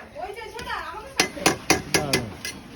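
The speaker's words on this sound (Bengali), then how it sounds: "এবার এটাকে মশলাটা ভালো করে কষিয়ে রসিয়ে নেওয়া হচ্ছে।" A spatula scrapes and knocks against a pan while spice masala with turmeric, peas and potato is stirred and fried for ghugni, a series of sharp metallic clacks in uneven rhythm mixed with speech.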